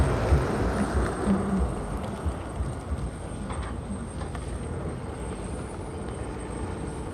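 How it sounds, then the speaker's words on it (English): A liquid nitrogen tank truck rolls past at the SpaceX Starbase site in Boca Chica, Texas. Its steady, broad engine and road rumble holds at one level throughout and carries no speech. "We got a liquid nitrogen tank passing by in front of us."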